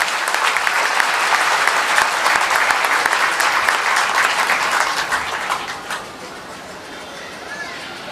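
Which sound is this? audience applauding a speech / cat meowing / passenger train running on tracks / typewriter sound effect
audience applauding a speech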